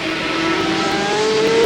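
Racing motorcycles at speed during a 30-lap race in the 1984 Transatlantic Challenge, a loud, steady engine drone with a rising whine as the bikes push hard, no voices.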